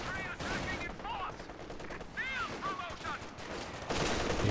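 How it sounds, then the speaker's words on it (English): MG34 machine gun fire in Company of Heroes 2 rattles in rapid bursts, fairly quiet under game effects, with someone talking over it. "Here's the MG34."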